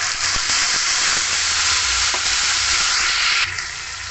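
Ground spice paste hits hot oil for a vegetarian soybean dal, setting off a loud, steady sizzle with stirring scrapes, which eases slightly near the end.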